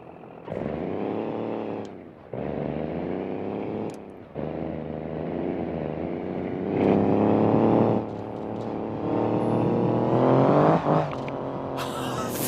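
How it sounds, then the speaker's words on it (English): A car in BeamNG.Drive holds a burnout, its engine roaring loud and close in long sustained revs that rise and bounce off the limiter between short pauses, with tire squeal in the mix. "Alright, it does a burnout."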